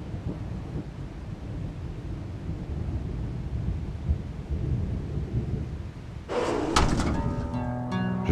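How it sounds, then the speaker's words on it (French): Rain and wind rumble through a raging storm, then a sudden sharp thunderclap cracks and rolls on loudly near the end. "Un soir où la tempête faisait rage"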